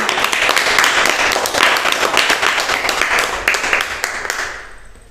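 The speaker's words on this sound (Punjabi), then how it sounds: "ਤਾੜੀਆਂ ਮਾਰੋ" A group of children claps together in a classroom lesson, a steady patter of many hands that holds for a few seconds and then fades away.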